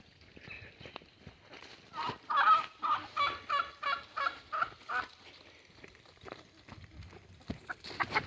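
A hen on a small farm gives a run of loud, rhythmic honking clucks in a close burst of about ten calls, with quieter rustling before and after.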